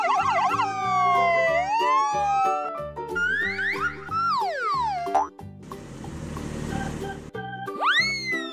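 Toy ambulance siren from a children's street-vehicle toy: a warbling electronic wail followed by rising and falling swoops, a noisy burst and a final upward whoop, loud and continuous over a bouncy synthetic musical backing, with no talking.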